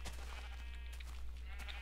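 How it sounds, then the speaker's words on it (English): Sheep bleating in Minecraft, a wavering animal cry heard faintly over a low steady hum, with no talking. "But there's my sheep"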